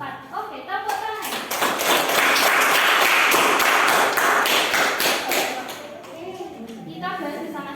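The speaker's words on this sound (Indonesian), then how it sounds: "Oke, tepuk tangan." A classroom group applauds together, a dense burst of hand clapping that swells loud for several seconds and then tapers, with a teacher and children speaking around it.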